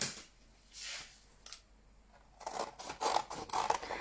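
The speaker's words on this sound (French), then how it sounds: "Et je viens couper ce que j'ai besoin." Scissors cut through a black paper sheet with a few crisp snips and rustles. The cuts come close up and quicken toward the end.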